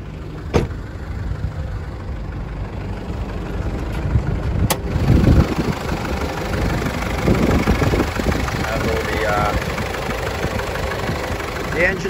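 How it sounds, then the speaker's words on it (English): A 2018 Mitsubishi Pajero GLX with a 4-cylinder turbo diesel engine idles with a steady low rumble, heard close and continuous under ambient noise, with a couple of sharp clicks early on. "It's got your 4-cylinder turbo diesel engine."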